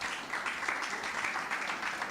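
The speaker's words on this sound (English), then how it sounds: "A huge round of applause" Audience applause at an African music business dialogue and showcase event, a steady wash of clapping sustained for about two seconds at moderate distance, with no voices over it.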